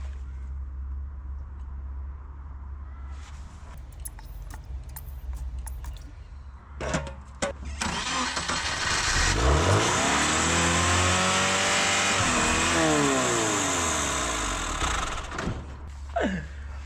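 A 1985 Subaru Brumby with a rebuilt, tuned carburetor and new throttle cable cranks a few times, catches and starts, then revs hard and loud for several seconds before dropping back, heard close with no talk.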